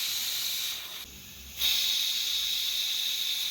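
A pressure cooker on a stove hisses out steam as a steady, loud rush. The hiss briefly softens near the one-second mark, then returns at full strength and holds to the end, with no voices.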